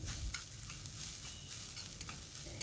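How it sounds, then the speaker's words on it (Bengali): Grated coconut and sugar are stirred in a wok with continuous soft scraping and a faint sizzle, quiet and close, with no voices. "অন্যদিকে কড়াইতে নারকেল কোড়া দিয়ে দিলাম।"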